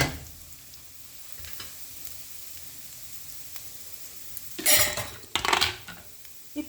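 Grated coconut sizzles quietly in a pan over a high flame, then a utensil scrapes and clatters against the pan in two louder bursts of stirring near the end.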